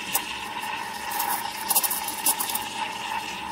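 Espresso machine steam wand with its tip held just below the surface of milk, frothing it for latte art: a steady, close airy hiss with a few soft gurgling surges and no talking.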